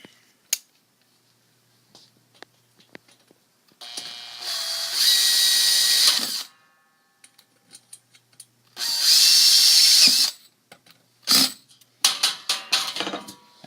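A powered screwdriver drives screws into the screw bosses on the bottom of an aluminum extrusion for a keyboard display stand, two close whirring bursts of a few seconds each among small clicks and handling taps.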